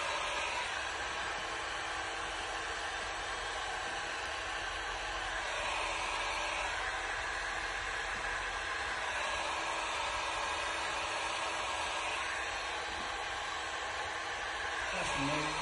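A heat gun warms a printed vinyl decal on a BMW F Series, blowing as a continuous, steady airy hiss from close by, with nothing else standing out.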